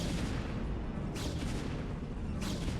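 Photon cannon fire in a StarCraft: Brood War Protoss-versus-Protoss tournament match: two sharp blasts about a second apart over a dense, loud bed of game battle noise.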